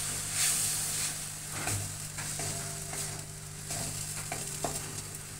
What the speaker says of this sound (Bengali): আর এটা এখন ভালো করে কষিয়ে নিতে হবে